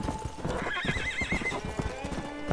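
A horse in the Red Dead Redemption video game gives a clear neigh over steady clip-clopping hooves, with the galloping beat running throughout.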